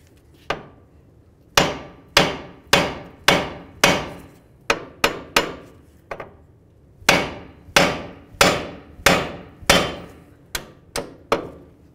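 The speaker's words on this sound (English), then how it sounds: "We'll use our hammer, and we're gonna give it a couple loving bonks on the knuckle." A hammer strikes the steering knuckle of a 2000-2005 Buick LeSabre to free the outer tie rod end, with about seventeen sharp metallic bonks landing close by in irregular bursts and short pauses between them.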